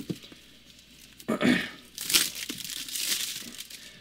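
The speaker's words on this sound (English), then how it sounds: "take trusty knife, cut the cellophane" Knife cutting the cellophane wrap on a boxed Jaybird Tarah Pro earphone package, with a few short crinkling, tearing rustles close by.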